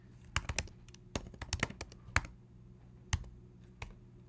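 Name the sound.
typing a name on a computer keyboard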